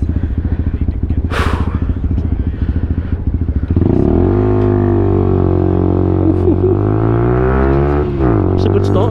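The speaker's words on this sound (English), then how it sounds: "I still like the sound of this exhaust" A Lexmoto LXR motorcycle's exhaust pulses in a rapid idle rhythm, then bursts into a loud full-throttle rev that holds and wavers before dipping and climbing again, up close.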